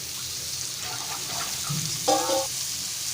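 Fish fried Malvani-style in oil in a pan, giving a steady, close hiss of sizzling with brief bubbling pops and a short burst of louder spattering partway through.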